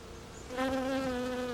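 Bees buzzing close by outdoors while being photographed in nature, a steady insect drone that swells louder partway through and holds a sustained hum.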